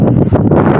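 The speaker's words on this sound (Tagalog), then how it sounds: "Malakas ang hangin mga ka-RC oh." Strong wind buffets an outdoor microphone in steady, rough gusts for under a second, loud and continuous with a rustling edge, while RC pilots fly birds outside.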